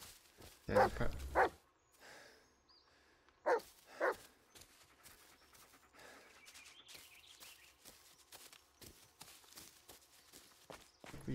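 A dog in the video game Blair Witch barks a few times, two loud clusters early on, over soft repeated footsteps crunching through a forest; no talking.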